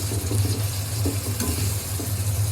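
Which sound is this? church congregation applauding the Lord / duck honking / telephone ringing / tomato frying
tomato frying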